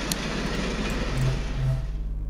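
Train rumbling past in a video game sewer, a low steady drone with a couple of louder swells, continuous throughout and fairly close.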